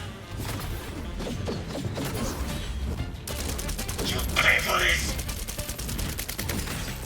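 Rapid pistol fire in the shooter Cyberpunk 2077, dense repeated shots with crashes and impacts layered over a busy game soundscape, voices talking faintly underneath.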